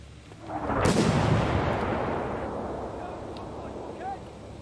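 A grenade goes off in Six Days in Fallujah, a sudden broadband blast with a rumbling tail that fades over several seconds amid battlefield noise.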